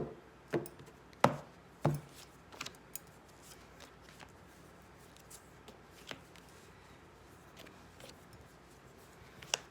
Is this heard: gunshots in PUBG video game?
no